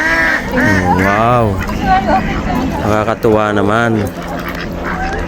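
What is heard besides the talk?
ducks quacking and honking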